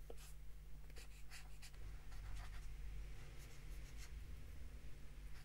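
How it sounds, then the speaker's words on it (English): A fountain pen scratches faintly across paper in short, quick strokes while someone sketches, soft and close over a low steady hum. "Do enjoy this fountain pen, because I feel like you can just quickly jot down ideas"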